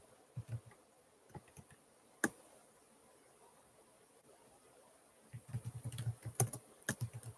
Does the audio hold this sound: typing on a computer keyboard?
yes